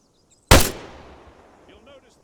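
A single sharp rifle shot from the sergeant firing downrange in ArmA, the military video game, rings out loud and close, then decays into a long echoing tail.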